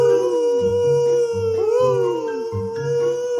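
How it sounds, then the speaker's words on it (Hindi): Foxes in a forest howl in a loud, sustained chorus of wavering, overlapping calls, animated-story style, with rising and falling tones over a few seconds. "तभी कुछ लोमड़ी चिल्लाने लगा।"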